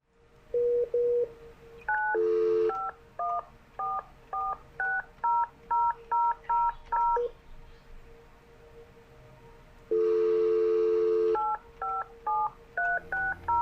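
A desk phone on an enterprise dial plan dialing a 10-digit Montreal local number: a series of short, crisp DTMF keypad beeps in quick uneven bursts, with two longer tones between groups, close and clear with no talk.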